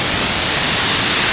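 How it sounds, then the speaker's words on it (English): Broad, steady roar of the forgotten waterfall on the Isle of Arran in pathless wilderness, a loud continuous wash of falling water close by with no voices. "This is the forgotten waterfall on the Isle of Arran"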